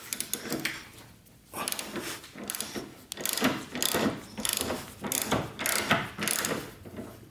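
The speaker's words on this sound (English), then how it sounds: "let's loosen the front bolt, but don't completely remove it" A ratchet wrench loosens the front bolt of the rear suspension on a Harley-Davidson Heritage Classic motorcycle, making close, loud bursts of quick clicking pawl strokes in repeated rhythmic runs.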